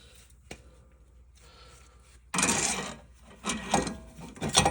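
Workshop sounds while a new suspension bushing is pressed into the rear knuckle of a 2003 Acura RSX Type S with a sleeve tool: a faint click, then louder grinding, creaking mechanical bursts up close.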